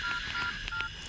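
A phone keypad is dialed, sounding a few short, faint touch-tone beeps in quick succession over a steady background hiss.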